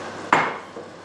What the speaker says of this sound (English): Put it on the frying pan.